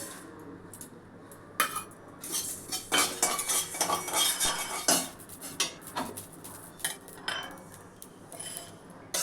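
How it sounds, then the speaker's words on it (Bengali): A utensil scrapes and clinks against a dry metal pan in irregular bursts, stirring whole coriander, cumin, five-spice seeds and dried chillies, close up with no talking. "শুকনো কড়াই একটু নেড়ে নেব।"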